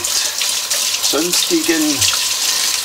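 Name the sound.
running tap water rinsing out a model train gearbox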